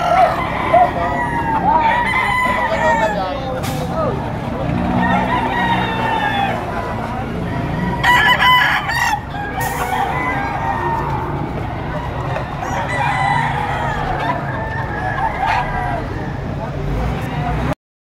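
Roosters crow and hens cluck at a busy chicken market in Padre Garcia, Batangas, several birds calling near and far over constant crowd chatter and traffic noise.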